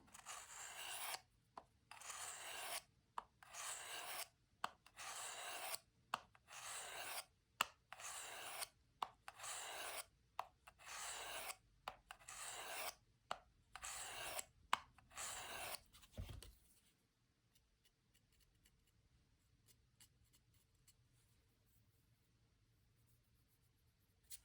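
A knife blade is drawn across a fine diamond sharpening stone in a steady series of about a dozen close, rasping strokes with brief pauses between them, working a burr over; the strokes stop and near-silence follows for the last several seconds.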